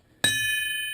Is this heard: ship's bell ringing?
yes